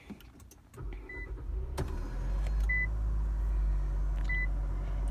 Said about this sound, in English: I'm gonna turn the car on.